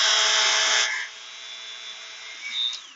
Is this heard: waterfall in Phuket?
no